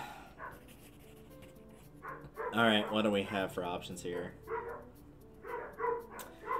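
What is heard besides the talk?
dogs barking in the video game BROK: The InvestiGator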